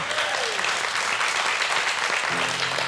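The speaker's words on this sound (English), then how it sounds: "Ladies and gentlemen, big round of applause for Leanne." Sustained audience applause on a cooking competition set fills the whole stretch, loud and steady, greeting a contestant's finished trifle, with no talk over it.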